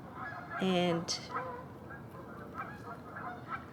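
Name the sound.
geese honking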